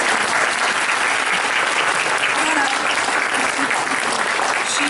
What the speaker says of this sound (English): let's all give her a round of applause for all the work she does.